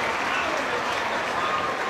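A crowd of Gaelic football supporters roars and applauds in a dense, sustained wash of cheering at a Roscommon match, with a commentator talking over it.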